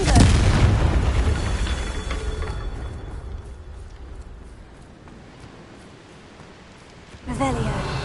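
Confringo, an explosive fire spell in the video game Hogwarts Legacy, goes off as a loud burst of blast and crackle that slowly fades, and a second blast bursts in near the end.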